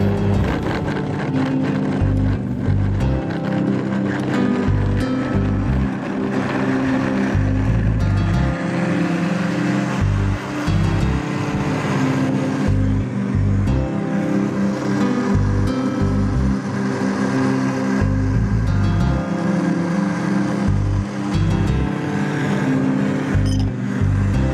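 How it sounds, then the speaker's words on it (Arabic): An electric blender whirs loudly and steadily for the full stretch, blending strawberries, tomatoes and water into juice with a dense, continuous churning drone and no talking over it. "هبتدي بقى ادوشكوا شويه واضرب."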